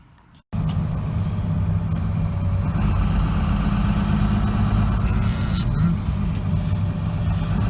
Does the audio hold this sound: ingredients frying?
no